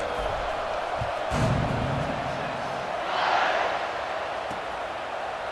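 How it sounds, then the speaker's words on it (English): A college football stadium crowd at a Texas A&M versus Texas game roars just before kickoff, a broad sustained wash of cheering that swells twice, at about 1.5 and 3.3 seconds, while a commentator speaks over it. "this crowd now ready to get behind them"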